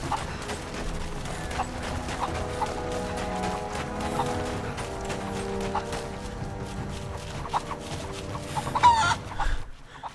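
Chickens cluck and squawk continuously in the video game Rise of the Tomb Raider, with a rooster-like crow, over busy ambient game sound and a scuffle of movement near the end.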